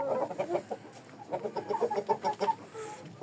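A purebred Korean rooster clucks in a steady run of short, close, fairly loud calls with no talk over it.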